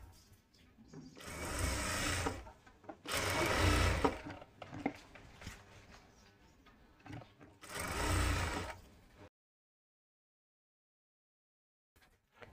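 A sewing machine runs in three loud bursts, stitching along the edge of a canvas-backed georgette kurti. Quieter handling noise fills the gaps, then the sound drops to silence near the end.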